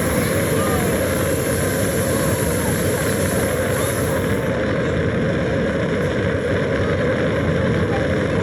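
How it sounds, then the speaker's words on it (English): Simulated main engine start of a Lego rocket launch attraction at Legoland Windsor, a loud, steady broadband roar like a rocket or jet engine that holds constant throughout, with some people talking faintly in the background. "We've gone for main engine start."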